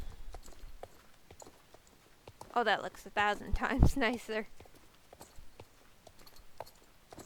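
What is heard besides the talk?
North Swedish horse trotting in the video game Star Stable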